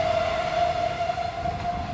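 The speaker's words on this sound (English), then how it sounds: "Oh, train!" A train passing in Poland, heard as a loud steady rumble from close by, with a sustained tonal squeal riding over it the whole time and no speech.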